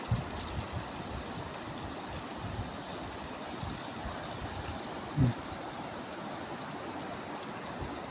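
Running water rushes steadily in the open, a constant broad wash with no voices, broken only by a faint thud partway through.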